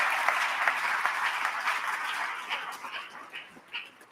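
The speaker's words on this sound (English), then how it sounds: "we can go ahead and give them a round of applause" Audience applause after speakers at a Central Ohio community forum: a steady wash of clapping that holds for several seconds, then thins into scattered individual claps toward the end.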